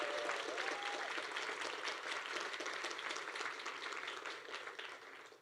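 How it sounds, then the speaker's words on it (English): Audience at a college senior awards banquet breaking into steady applause, many hands clapping together at moderate distance, slowly tapering toward the end. "We need a big round of applause for Sarah and Adrian in the dean's office."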